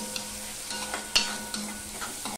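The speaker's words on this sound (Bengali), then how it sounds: "এই চিংড়ি মাছটা আমি ভালো করে ভেজে নেব।" Marinated prawns fry in a pan with a steady, quiet sizzle. A few soft clinks and stirring sounds come through, and nobody talks.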